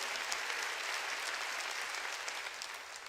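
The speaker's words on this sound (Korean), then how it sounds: "박수로 하나님께 영광을 드려요" A church congregation applauds to give glory to God during a sermon, a steady, even wash of many hands clapping, fairly distant and uniform, with no voices over it.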